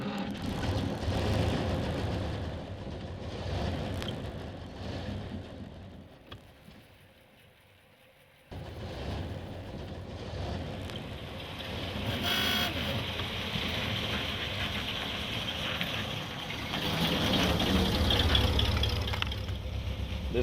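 Factory dual exhaust car engine while driving, a steady low rumble with swelling revs, briefly dropping to near silence midway before resuming and growing louder toward the end.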